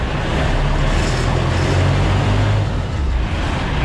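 A Loadstar truck engine runs at a steady idle with a constant low rumble and hum, close and loud, with no talking.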